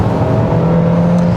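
A 2021 Kia Seltos 1.6 turbo gasoline 4WD revs high after downshifting on a winding road, giving a loud, steady engine drone with a faint rising tone and no voices.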